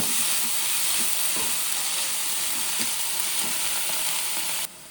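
Food fries in oil in a pan for a chickpea palya, giving a steady, close, hissing sizzle with occasional soft stirring taps, before the sound drops off abruptly at the end.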